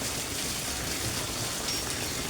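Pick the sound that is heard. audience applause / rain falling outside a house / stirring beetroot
rain falling outside a house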